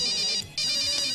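Telephone ringtone trilling in two electronic bursts with a short gap between them, loud and close, from a Somali-dubbed Hindi comedy film.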